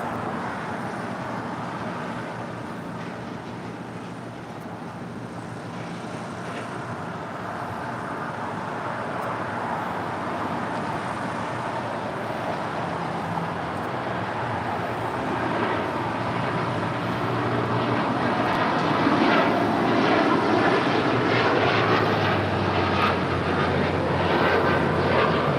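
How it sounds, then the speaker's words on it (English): An Air Canada Boeing 787-9 Dreamliner rolls down runway 25 right at LAX on its takeoff run, engine roar building steadily and growing louder over about twenty-five seconds, heard from a distance. "the Air Canada Dreamliner now rolling down"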